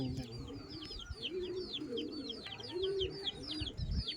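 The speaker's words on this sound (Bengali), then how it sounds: "দেখুন এটা কিন্তু মাদি পায়রা দেখাচ্ছিলাম" Pigeons at a racing-pigeon keeper's loft coo in repeated soft, rolling calls close by, with lighter chirps and faint background noise.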